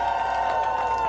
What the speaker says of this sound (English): Let's give a round of applause to Estonia.